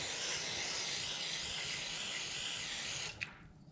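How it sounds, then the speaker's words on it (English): Carburetor cleaner sprays from a can in a continuous pressurized hiss at close range for about three seconds while cleaning a generator carburetor, then cuts off abruptly with a brief clatter. "let's go ahead and spray out. Again with carb spray."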